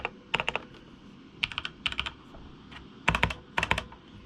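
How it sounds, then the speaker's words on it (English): Typing on a gaming mechanical keyboard with red switches, quick clusters of crisp close keystrokes in short bursts separated by brief pauses, with no talking. "This is the keyboard, as I said. Let's do a sound test."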